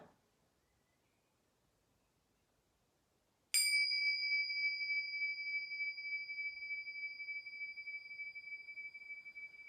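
A meditation bell is struck once after a few seconds of near silence, ringing out with a clear, bright tone that sustains and slowly fades, alone with no talking.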